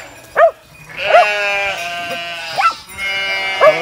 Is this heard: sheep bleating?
yes